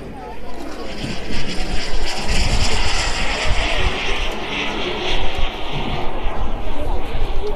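An aircraft making a low pass over the runway at an aviation festival in İnönü. A loud engine roar swells and churns steadily for several seconds, heavy rumble and wind-like noise throughout, with a person talking beneath it.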